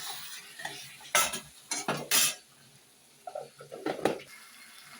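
An egg being stir-fried with a little water in a pan, scraped and stirred in short clattering bursts of utensil on metal over a faint, low sizzle.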